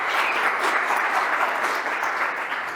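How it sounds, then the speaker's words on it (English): Dense, steady applause from a conference audience at the official opening of the Liberty International World Conference 2021, sustained clapping throughout with no pauses. "Applause for Dave."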